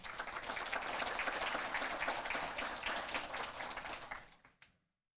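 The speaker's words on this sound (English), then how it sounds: "we'd like all of you to give Jill Lyman and to the other Mayo representatives here a round of applause" An audience claps together in a steady, even round of applause at a career information event, sustained for several seconds before tapering off into quiet.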